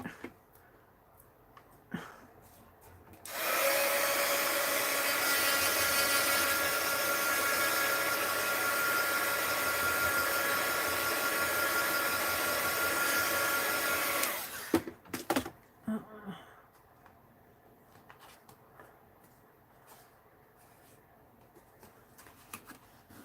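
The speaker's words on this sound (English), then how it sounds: "let's hit that with the heat gun before I lift it up" A heat gun blows on a mixed media art piece, a loud steady whirring hiss running for about ten seconds, followed by quieter handling clicks and taps.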